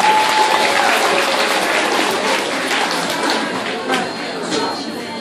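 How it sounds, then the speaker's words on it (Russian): Applause from campers at a summer camp award ceremony, a steady mass of clapping that fills the clip and slowly eases off toward the end, with a brief tone near the start. "Аплодисменты."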